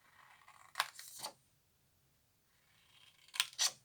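Two quick pairs of crisp scissor snips slicing through paper, separated by a quiet pause, close and clear.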